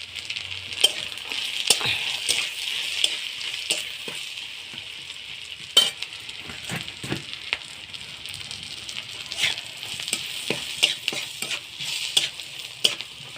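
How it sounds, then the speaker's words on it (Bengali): Onions and garlic frying in a pan and stirred with greens, a soft hissing sizzle under frequent scraping and clinking stirring strokes, close and moderately quiet. "পেঁয়াজ রসুনটা আমার ভাজি ভাজি হয়ে গেছে দেখুন।"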